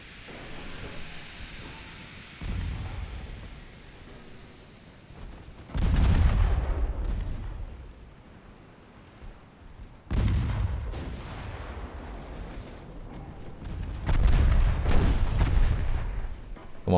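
Warship main and secondary guns firing in a naval battle game set in 1893 produce heavy, booming salvos in several loud bursts, each rumbling and hissing away before the next, separated by quieter stretches.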